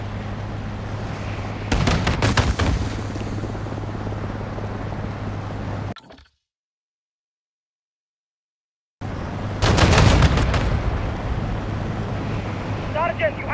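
APC gunfire in Call of Duty Modern Warfare 2 amid loud wind and surf-like ambience, with rapid bursts of shots near the 2- and 10-second marks separated by a stretch of complete silence.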